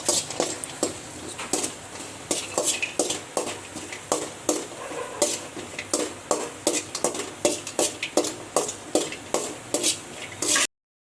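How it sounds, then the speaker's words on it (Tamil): Cashews, almonds and raisins fry in ghee for a sweet potato halwa, with a brisk, repeated scrape and clink of a spoon stirring in a pan over a soft sizzle, loud and close, with no talk. "முந்திரி பாதாம் உலர்ந்த திராட்சை எல்லாம் போட்டு வறுத்துக்கலாம். நெய்யில் நல்லா பொன்னிறமாக வறுக்கணும்"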